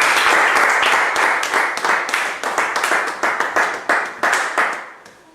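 A church congregation clapping together, loud and close, with rhythmic, roughly unison claps that gradually turn into spaced, uneven bursts and trail off.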